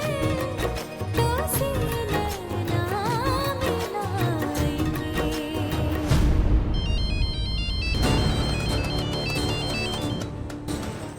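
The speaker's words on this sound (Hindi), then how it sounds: "किसका फोन है हजूर?" An electronic ringtone melody plays loudly and continuously, repeating its tune with no talking.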